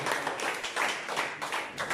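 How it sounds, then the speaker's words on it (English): A quiz-night crowd applauds the runners-up, a short burst of moderately loud clapping that ripples unevenly through the room. "a big round of applause for our runners up tonight"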